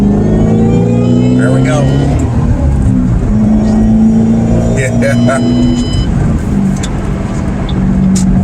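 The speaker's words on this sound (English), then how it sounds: "that supercharger kicks in when you get on the gas, and it's something else" A supercharged Shelby GT500KR pulls hard onto the I-40 highway, its engine droning loudly and rising in pitch under steady road and wind noise while people talk briefly inside the cabin.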